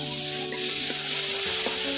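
Oil sizzles loudly and steadily in a pan as chunks of fish fry with onion and garlic paste, a continuous close crackle with no talking.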